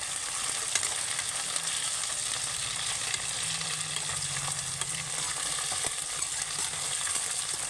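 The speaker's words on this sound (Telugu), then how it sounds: "ఇప్పుడు బెండకాయలు వేసుకున్నాం కదా, చూపిస్తారండి. ఇలా వేయించుకోండి." Okra frying in a pan crackles and sizzles continuously up close, with occasional light clicks of stirring over the steady oil spatter.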